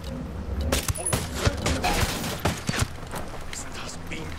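Suppressed sniper gunfire in the tactical shooter game Ghost Recon Wildlands: a few sharp, spaced shots under an ongoing backdrop of game ambience, with a voice talking at points.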